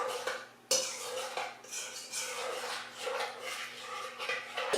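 Sourdough pizza dough being mixed in a bowl, with continuous clinks and scrapes of a utensil against the dish, close and fairly quiet, with a brief pause near the start.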